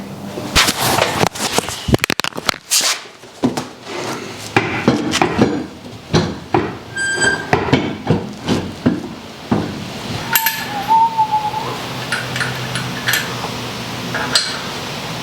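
Lug nuts threaded and tightened by hand onto a car wheel, with a series of sharp metallic clinks and taps in irregular bursts, close and fairly loud, plus a brief squeaky tone near the end.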